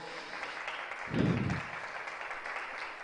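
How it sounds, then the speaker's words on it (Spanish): Applause from an audience at the launch concert of an Andean music group, a steady, even clapping throughout with a brief louder low swell midway. "Fuerte el aplauso, por favor."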